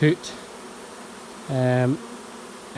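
Honeybees around an open hive, one close buzzing pass rising and fading in the middle, with fainter short buzzes at the edges over a quiet background.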